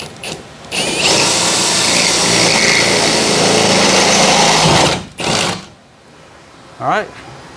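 A power drill bores through the rear door of a VS30 Sprinter van, a loud sustained whine of about four seconds, then brief bursts as it is pulled back out of the hole.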